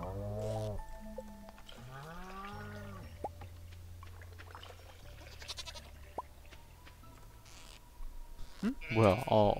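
Goats in Stardew Valley give a few wavering bleats, one at the very start and another around the middle, over soft game music and small interface clicks, with a louder burst near the end.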